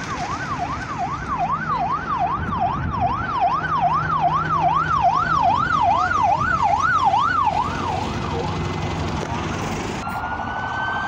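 An ambulance siren wails in a steady, rising and falling cycle as it passes Darlington bus station by the A167, loud at first and then fading beneath idling traffic.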